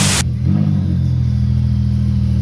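Pontiac Grand Prix GTP with a new 3-inch downpipe and swapped supercharger pulleys cranks over and settles into a steady, loud, close idle with a deep rumbling drone throughout.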